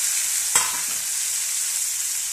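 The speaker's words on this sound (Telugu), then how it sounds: "ఆయిల్ అయితే వేడైపోయిందండి. దీనిలోకి నేను కాకరకాయలు వేసుకుంటున్నాను." Pieces of bitter gourd drop into hot oil in a kadai with one sharp splash, and a bright, steady sizzle continues on its own afterward.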